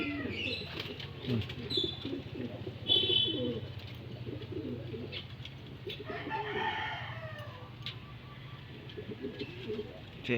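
Racing pigeons returning to their home loft after a first toss coo in low, rolling murmurs over a faint steady hum, with other bird calls mixed in at a distance.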